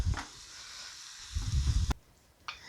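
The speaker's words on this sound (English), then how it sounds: "we're going to let our meat finish browning" Ground taco meat sizzles as it browns in a pan, a steady close frying hiss that swells and settles, with a brief clatter near the end and no talking.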